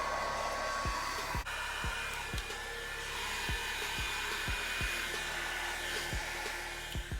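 A hair dryer set to medium heat and low speed blows on curly hair with a steady, even whoosh that lasts throughout, with soft rhythmic low thumps underneath.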